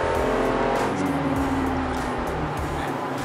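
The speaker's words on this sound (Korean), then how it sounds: "속도는 나지만 엔진 소음이 많이 커지죠." A Chevrolet Colorado pickup truck accelerates hard on an expressway, its engine droning loudly with a steady, heavy roar and strong road rumble, heard from inside the cab.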